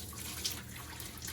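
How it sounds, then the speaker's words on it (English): Tap water runs steadily into a kitchen sink while raw chicken is rinsed, a close, even splashing wash with a couple of brighter drip accents and no voices. "we're going to go over to the sink and we're going to cool this down and also actually rinse the chicken off"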